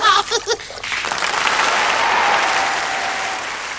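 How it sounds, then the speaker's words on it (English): Enormous applause from a concert audience in a hall swells in and holds loud and dense, following a brief spoken narration at the start. "Mama and Papa joined in the enormous applause"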